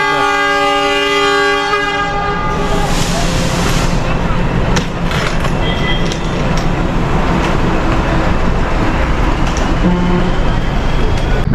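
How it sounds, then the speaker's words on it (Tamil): A toy train's horn sounds loudly at the start of its departure from Lovedale station near Ooty, then the rumble and clatter of the train pulling away fills the rest, steady and close. "எல்லாரும் ஏறிட்டாங்களான்னு பார்த்துட்டு டாய் ட்ரெயின்லேருந்து லவ்டேலேருந்து கிளம்புது"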